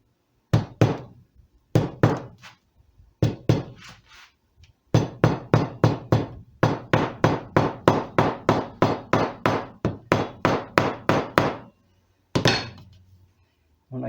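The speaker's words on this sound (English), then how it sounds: "I'm going to take this small hammer and tap this in as I go." A small hammer taps a rosette into a redwood guitar top in close, sharp knocks, first in sparse pairs and then in quick steady runs of several taps, with short pauses between bursts.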